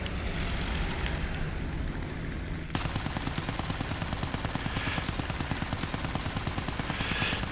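An aircraft machine gun fires in War Thunder, first a steady engine drone and then a sustained rapid stream of loud, evenly spaced shots running to the end.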